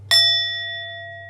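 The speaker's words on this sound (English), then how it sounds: "And then I'm going to finish off with my ringing bowls." A single ringing bowl struck once, a clean metallic ding with bright sustained overtones that decay slowly, close and alone over a low hum.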